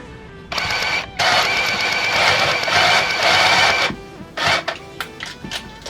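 A sewing machine stitches a hem on a thrifted garment being upcycled, running in one long, loud, steady burst, then stopping and restarting for a few shorter whirring runs.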